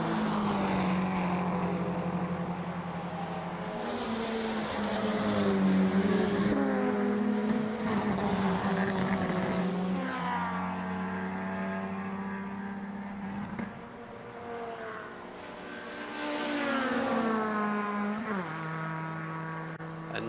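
Touring race cars at the 2023 DeWALT Grand Prix of the Baltic Touring Car Championship, loud engines droning past on the track with pitch rising and falling as they pass.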